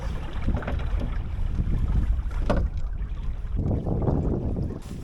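Steady, blustery wind buffets the microphone on an exposed windward shore beside a Drascombe Lugger dinghy, a continuous low roar with gusts and faint water movement.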